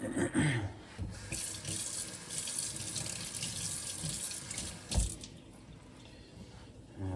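Tap water runs steadily over a sharpening stone as it is rinsed at a sink after honing a straight razor, a continuous close splashing wash with a brief louder splash near the end.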